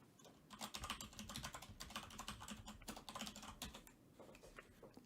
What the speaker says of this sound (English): your keyboard's hella loud. It's a mechanical keyboard.